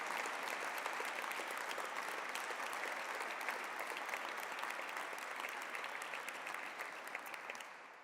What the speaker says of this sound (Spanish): pido un fuerte aplauso para Encantado de Comerte y Kairos